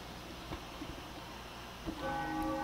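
A bell rings in the Demon's Souls video game, with faint, distant tolls whose resonant tones swell and sustain toward the end over a quiet game ambience.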